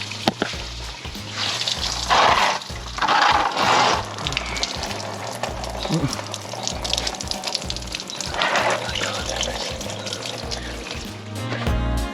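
Coolant draining out of the radiator of a 2001 Chevrolet Silverado 1500 with a 5.3L engine, a steady splashing pour into a pan with a few louder gushing surges, close and continuous with no talk.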